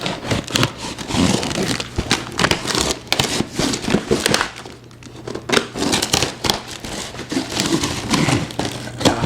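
A pocket knife slicing open a long cardboard box, with steady scratchy tearing and crinkling, near and fairly loud, running almost continuously with a brief lull partway through.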